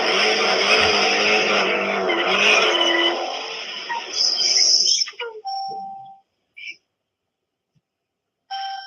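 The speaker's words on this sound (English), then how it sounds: "Let me go ahead and do my burnout right quick. Okay. Activate the line lock." A drag car on line lock does a burnout, a loud raw engine roar with screeching tire noise for about five seconds, then it cuts off to near silence with brief faint chirps.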